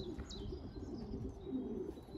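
Pigeons at a racing loft, low soft cooing running steadily throughout with a few faint chirps above, fairly close and continuous, no talking.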